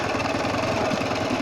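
Engine of a Ural motorcycle with sidecar running steadily, a loud, close, continuous rumbling drone with no speech over it.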